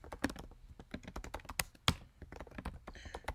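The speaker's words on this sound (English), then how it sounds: "I just choose to type in to practice my typing skills." Rapid typing on a computer keyboard, with close, crisp key clicks in an uneven rhythm and a few heavier thunks, no one speaking.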